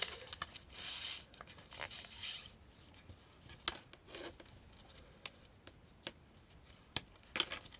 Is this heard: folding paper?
yes